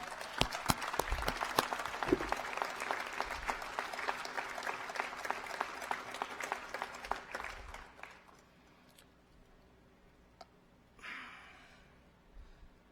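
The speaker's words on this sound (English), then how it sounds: "Give him a big hand of applause." Applause from an audience at the Wyoming State Capitol open house and celebration, honoring Cheyenne's city historian: a dense, moderately distant ovation for about eight seconds that fades, then a brief muffled rustle near the end.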